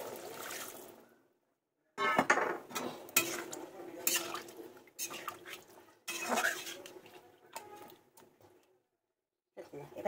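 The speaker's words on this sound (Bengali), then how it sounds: "এবার আমি পরিমাণ হিসাবে একটু জল দিয়ে দেবো।" Water is poured into a pan of simmering pointed gourd and drumstick curry, with clattering pot and utensil sounds and trickling in loud bursts broken by short silences.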